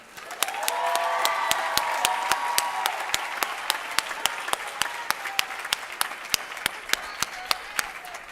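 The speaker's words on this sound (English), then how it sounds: "One last round of applause, please." An audience at a college commencement ceremony applauds, a broad wash of clapping that swells quickly and holds steady for several seconds. A few sharp individual claps stand out close by in a regular pattern.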